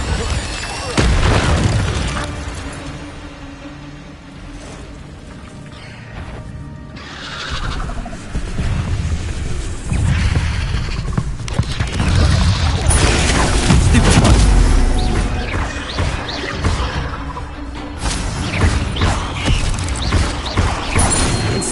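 Repeated Incendio fire spells cast during a Hogwarts Legacy battle, booming blasts and mechanical clanks recurring amid dense, loud combat effects over about twenty seconds.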